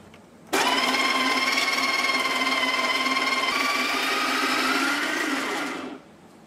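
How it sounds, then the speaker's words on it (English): Breville Barista Express built-in grinder grinding coffee beans on setting 13, a loud steady high motor whine that starts abruptly, runs evenly for about five seconds with a slight pitch shift, then winds down. "when you put that amount of beans in there, it grinds for about 20 seconds"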